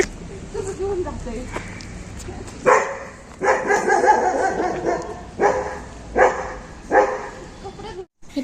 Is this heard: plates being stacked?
no